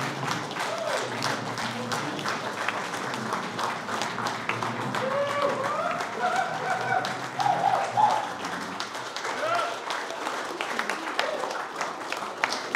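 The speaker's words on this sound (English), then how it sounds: "Huge round of applause, ladies and gentlemen." An audience at a security awards gala gives a standing ovation, dense applause sustained throughout, moderately distant and even, with voices mixed in underneath.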